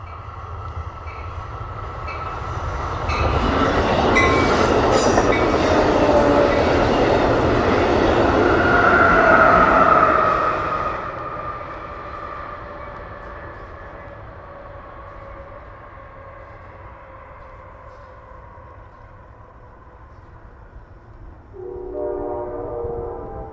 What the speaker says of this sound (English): Our last train of the day is 672 East